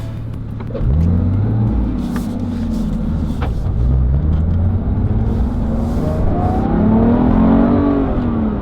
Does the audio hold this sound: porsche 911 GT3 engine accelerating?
yes